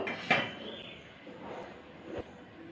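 A metal lid clanks shut on a kadai (wok) set on a flat griddle with a stand inside for baking a mango cake, one sharp near clatter followed by a fainter second knock.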